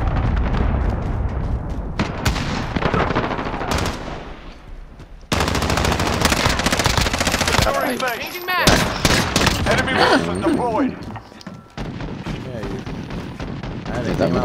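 Heavy automatic gunfire rattles almost throughout a team-based tactical shooter round, bursts of fire and blasts crowding the mix while several players shout callouts over it.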